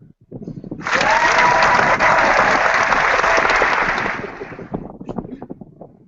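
A small group of people gives a short burst of clapping that starts suddenly, holds steady and loud for about three seconds, then fades out.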